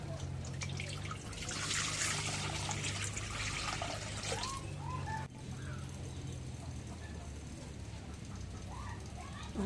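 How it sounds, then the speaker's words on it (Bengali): Water is poured into a cooking pot of boiled duck eggs, giving a continuous splashing trickle for the first few seconds, then softer dripping and gurgles over a low steady hum, with faint background sounds. "পানি দিই এখন"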